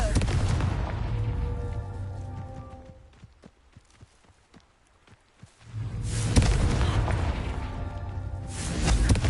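A Confringo blasting curse in a Hogwarts wizarding video game erupts into a loud, booming explosive burst, fading into a quieter stretch of crackles and taps before another heavy blast swells near the end.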